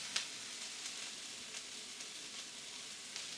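Broccoli browning in a hot pan gives a steady close sizzle and fry, with faint scrapes and clicks of stirring rising now and then above the constant hiss.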